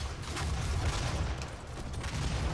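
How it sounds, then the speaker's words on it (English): Shotgun blasts from the Doom open beta online multiplayer, a few heavy booming shots sounding over a dense, continuous wash of loud game noise with no talking. "This shotgun is beastie"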